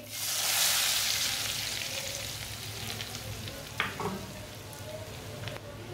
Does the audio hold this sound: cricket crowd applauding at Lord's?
no